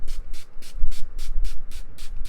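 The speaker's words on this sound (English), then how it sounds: "Okay, I'm going to spray it now." A face setting spray is pumped in quick repeated bursts, about eight short hissing mists in a steady rhythm, close and fairly loud, with no talking over it.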